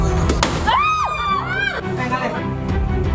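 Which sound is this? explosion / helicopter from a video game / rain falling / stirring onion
explosion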